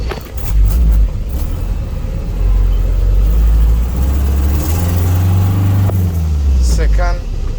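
A Hyundai truck engine pulls away in first gear, its low rumble rising in pitch as it accelerates. The engine is loud and close, with voices talking over it.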